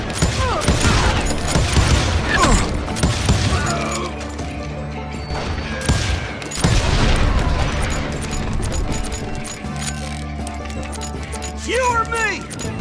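Gunfire in the Western shooter Call of Juarez: Gunslinger: a near-continuous fusillade of shots and impacts throughout, with a voice talking over the shooting.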